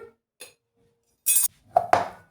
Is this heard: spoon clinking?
yes